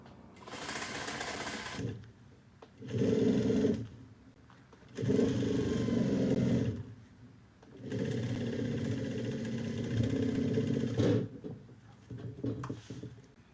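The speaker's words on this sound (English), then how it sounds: "we're going to sew the sides of the pocket panel at 1/2 inch to close up the pocket" A sewing machine stitches the sides of a fabric pocket panel for a bucket bag, running in four separate bursts of rapid mechanical whirring with short pauses between them.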